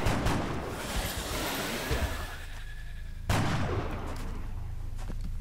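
Gunfire from the video game XCOM Enemy Within: a dense, rumbling barrage of shots in a loud battle mix that thins out and then bursts back in with a sharp new volley.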